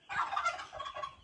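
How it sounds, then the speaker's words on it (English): A wiry native fighting-type chicken in the Philippines lets out a short, harsh, raspy squawk while attacking chicks, close and loud, lasting about a second with no voices. "Really a wiry fighting type chicken."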